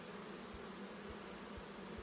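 Honey bees buzzing inside a wintered nuc colony, a steady, close, continuous hum with faint rhythmic low thumps, no voices.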